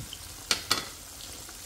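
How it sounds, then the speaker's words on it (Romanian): Chicken pieces frying in a pan for crispy drumsticks: a steady hiss of hot oil with two sharp, loud sizzling bursts close by, then another burst starting at the end, no voices. "Prăjim. Să vedeți ce crocante o să iasă bucățile astea de pui."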